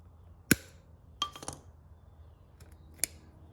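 A tie near the rear-wheel cable of a Ride1Up LMT'd e-bike snipped with a cutter, heard as a sharp snap followed by a few lighter clicks and a final tick, close and clear against a quiet background.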